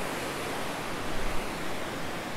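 A waterfall cascades from about 10 m high in the spring mountains of Yangyang, giving a loud, steady broadband roar that fills the whole stretch without pause, with no voices.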